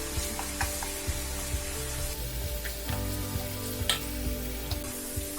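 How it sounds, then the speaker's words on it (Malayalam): Sliced onions fry in hot oil for chicken biryani, giving a steady, close bubbling sizzle with occasional light pops and spatula taps, no voices. "ഇപ്പൊ സവാള ഒന്ന് ഫ്രൈ ആയി വന്നിട്ടുണ്ട് കേട്ടോ"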